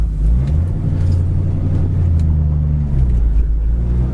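A 1965 Ford Mustang with dual exhaust idles steadily, a low, close rumbling burble that holds even throughout.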